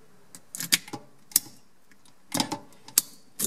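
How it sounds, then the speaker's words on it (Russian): Ignition key inserted and turned in the lock of a Honda Magna 750 motorcycle, several sharp metallic clicks and ratcheting snaps close up in short bursts. "Включается зажигание."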